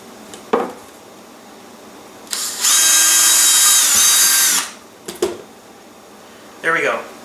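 An electric drill bores holes in a model rocket nose cone, whirring loudly for about two seconds with a pitch that rises and settles. Short knocks and brief handling noises come before and after.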